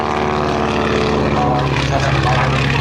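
A biplane's propeller engine roars loud and steady during an airshow aerobatic hesitation roll at Sun 'n Fun 2012, an unbroken buzzing drone with a commentator speaking over it.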